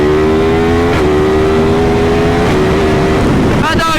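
A 2023 Yamaha MT-10 SP motorcycle accelerates hard, its loud, close engine holding a steady roaring drone that shifts in pitch before sharp exhaust bangs crackle near the end.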